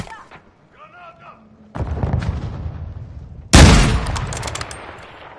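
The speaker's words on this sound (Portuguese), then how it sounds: "Granada lançada!" Grenade blast and gunfire in Call of Duty MW2 multiplayer: a short voice callout opens, then a burst of rattling gunfire, followed by a sudden loud, close explosion with crackling debris and continued shots.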